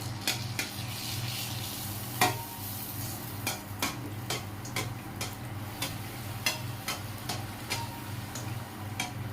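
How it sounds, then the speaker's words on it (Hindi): Pani puri frying in hot oil, with a steady low bubbling sizzle and repeated sharp ticks and clinks as the oil is stirred and the puris are dropped in one by one. "देखिए इस तरह से हम डाल जाएंगे और तेल को इस तरह से हिलाते जाएंगे।"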